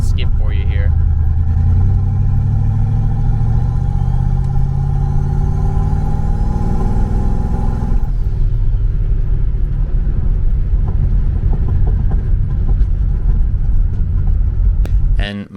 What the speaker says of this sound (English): it decided it wanted to start misfiring regardless of if you were in boost or not